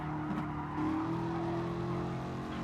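Race car in Gran Turismo Sport on a midship-car circuit race, braking hard into a corner: a steady engine drone with a faint tire scrub as speed drops, continuous and fairly close throughout.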